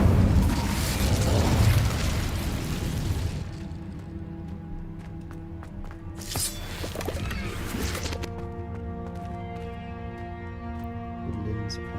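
Fiery spell blast in a Hogwarts wizarding video game, a loud roaring burst of flame that fades after a few seconds into quieter crackles, thumps and a sustained musical drone.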